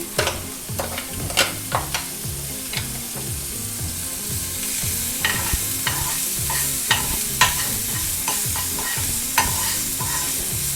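Finely chopped onion, green chilli and ginger fry in a pan, a constant close sizzle with repeated sharp spatula taps and scrapes against the metal at an uneven rhythm, with no speaking.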